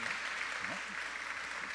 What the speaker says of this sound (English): could we have one more round of applause for our mayor?